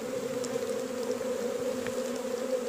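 Steady, dense hum of a large, strong honeybee swarm gathered for hiving, close and continuous with a constant drone and no voices.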